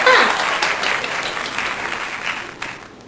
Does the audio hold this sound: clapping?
yes